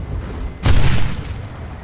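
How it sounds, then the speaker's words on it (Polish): A sudden explosion booms in the War Thunder combat game, a single loud deep blast rising over quieter background rumble and fading within about half a second. "A ten wybuch to co to był?"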